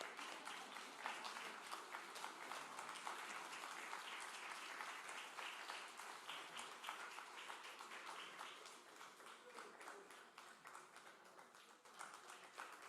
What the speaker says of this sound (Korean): 예, 우리 박수로 한번 격려하도록 하겠습니다.